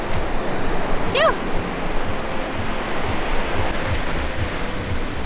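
Steady surf washes onto a very long sandy beach at Nacpan, a constant broadband roar of breaking waves with a brief faint chirp partway through.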